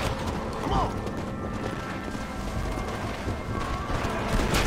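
Horse hooves clip-clop in Red Dead Redemption: Undead Nightmare, a steady galloping patter mixed with creaks and rattling under continuous game ambience, with a voice talking over it.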